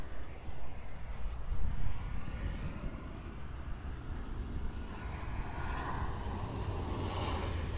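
A KLM Boeing 747 in blue livery at Miami International Airport gives a steady, broad jet roar with a heavy low rumble that holds throughout and swells slightly partway through.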